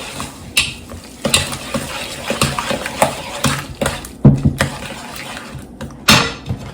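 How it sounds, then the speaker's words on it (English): Lemon-zested loaf batter being mixed in a bowl, with irregular scraping and knocking strokes of a utensil against the sides, close and fairly loud, with no talking. "Mix all that together."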